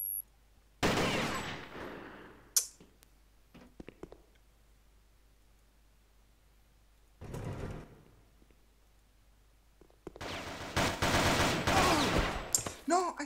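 Bursts of rapid gunfire from a match in the Operation7 shooter on the LA map, with a burst near the start, a shorter volley mid-clip and a dense sustained volley at the end, separated by quiet gaps.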